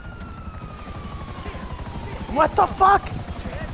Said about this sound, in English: We gotta take out that chopper!